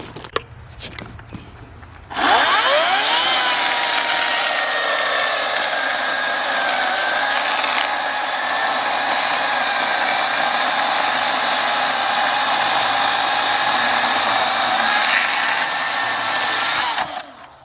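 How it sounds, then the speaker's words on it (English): Chainsaw sawing off the butt end of a silver maple log just under 12 inches across, revving up abruptly to a loud, steady high-pitched whine held for about fifteen seconds up close, then dropping off at the end. "We're gonna cut the butt end of this log off."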